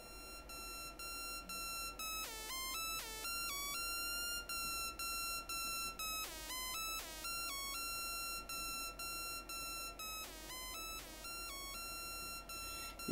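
Modular analogue synth patch, a high-frequency Avalanche VCO output passed through an envelope-triggered Vactrol and high pass filter, gives a repeating sequence of bright pitched beeps and sweeping chirps over a steady tone and noisy hum, fairly quiet, no speech.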